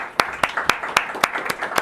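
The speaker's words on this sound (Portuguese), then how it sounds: "primeiramente, palmas para vocês" A small group claps at a marketing and sales talk, giving roughly seven distinct, evenly spaced sharp claps in close succession, fairly loud and near.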